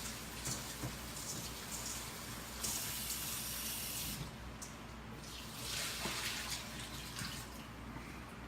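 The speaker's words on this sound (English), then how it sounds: "So I'm going to go ahead and rinse this in my strainer." Tomatoes are rinsed in a strainer under a running kitchen tap. Water flows and splashes steadily and fairly close, with slight surges, and no one speaks.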